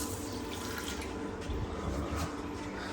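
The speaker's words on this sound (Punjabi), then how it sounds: "ਇਸ ਨੂੰ ਕਰਾਂਗੇ ਥੋੜਾ ਪਾਣੀ ਆਏਗਾ, ਇਹਦਾ ਕਰਾਂਗੇ ਤੇ ਜ਼ਿਆਦਾ ਪਾਣੀ ਆਏਗਾ" A kitchen sink tap runs in a steady, faint rushing stream of water, close by and continuous.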